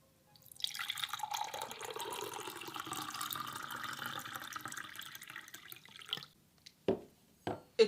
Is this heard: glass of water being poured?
yes